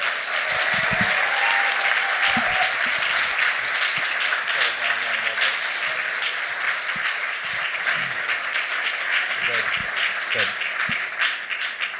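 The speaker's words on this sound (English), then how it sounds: "Let's give Congressman Hoyer another round of applause, please" An audience at an awards reception claps in sustained applause, dense and even throughout, with a voice briefly heard over it at times.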